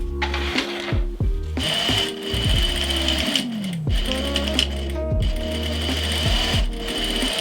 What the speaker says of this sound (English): I stop sewing them into loops and I just sew them on completely as strips.